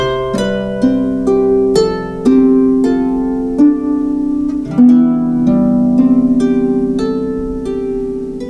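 Soft plucked harp strings play a gentle, flowing phrase of single notes and low chords, each tone ringing and fading, quiet and unaccompanied.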